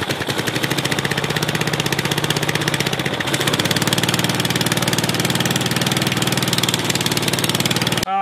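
Racing lawn mower engine being built, with the blades turning and a carburetor fault, running loud and steady at close range, a throbbing idle that rises slightly in pitch midway with no talk.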